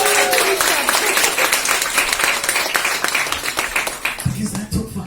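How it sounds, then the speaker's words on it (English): Dense applause and clapping from a stand-up comedy crowd fills the whole stretch, with voices and cheers mixed in and a low rumble near the end. "please give another massive round of applause for these guys"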